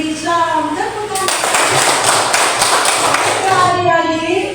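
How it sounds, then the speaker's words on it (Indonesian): A classroom audience of children clapping their hands in a burst of dense applause lasting a few seconds, loud and close, with voices speaking just before and after. "Tepuk tangan."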